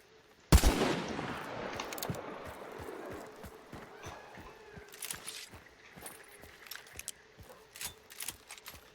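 Gunshots in the video game Hunt: Showdown. One loud, sharp blast with a long echoing decay is followed by a rapid, fainter train of clicks and distant pops.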